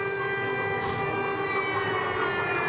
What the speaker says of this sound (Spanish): está sonando la sirena que alerta sobre la posible caída de bombas o de